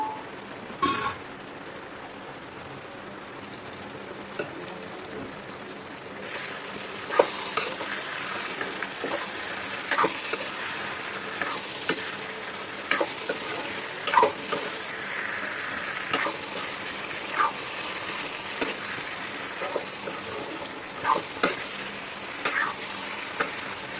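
Chicken pieces with onion and tomato sizzle and crackle continuously in a hot pan, a rain-like hiss broken by repeated sharp scrapes and taps of a stirring utensil.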